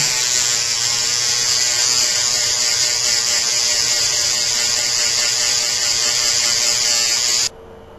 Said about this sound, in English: I have been scrubbing at my nails with my toothbrush